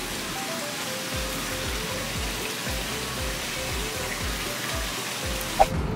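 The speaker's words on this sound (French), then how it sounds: "On dirait qu'il neige tellement il pleut." Heavy rain pouring down, a steady dense hiss with close drips and splashes throughout and a brief sharp knock near the end.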